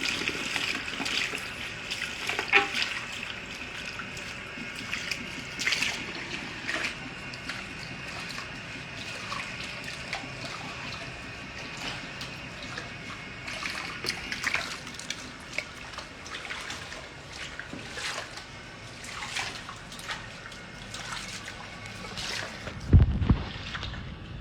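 Water running steadily from a tap while conditioner is rinsed out of hair at a salon sink, a continuous hiss with occasional splashes and a thump near the end.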